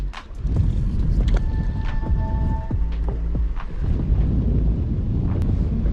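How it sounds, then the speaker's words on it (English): Wind gusting across the microphone outdoors at a fishing point, a steady low rumbling roar filling the whole stretch, loud and close, with faint tonal hints in the background. "Wind blowing right here into this point behind me."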